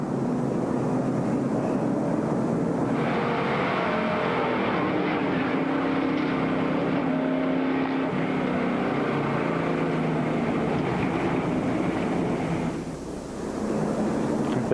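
Onboard a NASCAR race car in 1999 Speedweeks action, a loud, continuous engine roar and wind rush fill the cabin, dipping briefly near the end before surging back.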